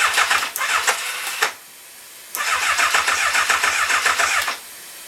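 An engine that has sat unused for a while is cranked over in repeated starter bursts, two long cranking stretches separated by a pause, loud and close, with no talking.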